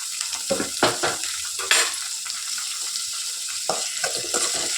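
Onions and chopped tomatoes fry in a pan with a steady close sizzle, broken by several clattering stirs and scrapes of a utensil against the pan, no talking.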